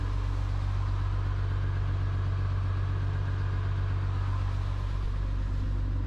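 A boat engine on a swollen River Lea after heavy rain pushes against the current, a steady low rumbling drone holding throughout with little audible change in pitch, close and continuous with no voices.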